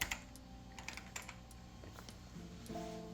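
Computer keyboard keys pressed during a Windows Neptune setup on real hardware, a handful of sharp clicks spaced irregularly over a steady electronic hum, near and fairly quiet.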